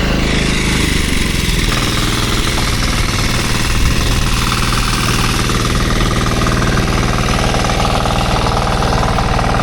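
A 16-horsepower motor runs hard and loud at a work site, its rapid pounding knock steady throughout, close and unbroken, with no talk over it.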